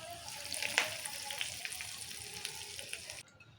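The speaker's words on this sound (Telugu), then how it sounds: "తాలింపు అయిపోయింది, ఇలా పోసుకుందాం పప్పులో." Hot tempering of spices with curry leaves and turmeric poured into spinach dal, a steady close sizzle and crackle with a sharp burst near the start, fading then cutting off near the end.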